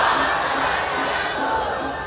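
An audience at a Balinese drama gong performance claps and cheers in a dense, continuous wash of crowd noise with voices mixed in.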